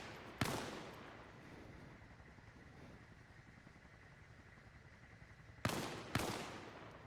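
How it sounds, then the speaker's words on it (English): Distant gunshots ring out in a video game battle between USMC Raiders and insurgents assaulting an outpost. One crack is followed after a long pause by two quick shots over a low background rumble. "They ring off a couple shots that gets intercepted by the rubble."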